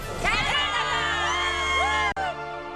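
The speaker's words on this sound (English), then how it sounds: "the track is lit up with flashbulbs and a buzz with cheers from the crowd" A crowd cheers and whoops under the lights at a Rotax Max Challenge kart racing Grand Finals drivers' parade in Portimao, a steady roar of many voices with higher shouts rising above it, ending in a brief break.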